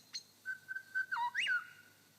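In a quiet setting, a lyrebird mimics a blackbird and then a grey thrush: a long, steady whistled tone leads into a sharp upward, ringing whistle near the end.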